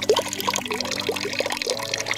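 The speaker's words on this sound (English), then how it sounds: "So I've got a kettle here with hot water. I've already got a half a bucket of cold water, so I'm just going to add this to that." Hot water pours from a kettle into a bucket of cold water, a close, continuous splashing trickle with bubbling gurgles throughout.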